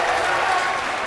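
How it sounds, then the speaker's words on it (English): Crowd cheering and applauding at a Skyline quarterfinal college basketball game between Yeshiva and St. Joseph's Long Island, a dense, steady roar of claps and voices filling the whole brief moment. "And here the crowd is already into it."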